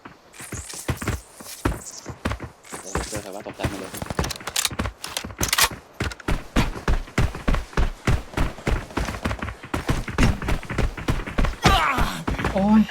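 Footsteps in the shooter game Arena Breakout, a steady run of quick, regular thumps climbing up inside a warehouse, mixed with game effects and fairly close.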